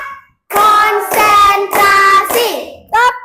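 A class claps hands in a counted rhythm: bursts of clapping start and stop in separate groups, loud and near.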